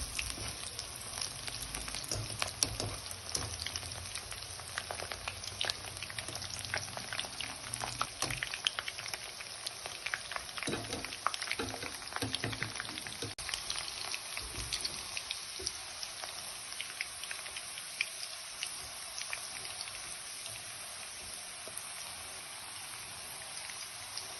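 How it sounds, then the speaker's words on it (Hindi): Chicken pakora pieces frying in hot oil, a steady dense crackle and sizzle that stays fairly even and close throughout, with a few sharper pops mid-way. "पाँच मिनट में चिकन फ्राई हो चुका है।"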